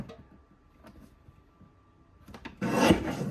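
A paper strip is trimmed for a scrapbook page kit: soft handling taps, then one short, loud rasping cut near the end.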